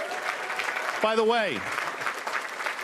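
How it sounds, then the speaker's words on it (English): An audience at a live finance talk-show taping applauds steadily while someone speaks over the clapping. "Give a round of applause for Michigan."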